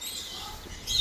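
Lovebirds at a zoo in Al Hasa, Saudi Arabia, give faint, thin chirps and tweets over a quiet outdoor background, with a brighter, closer call near the end.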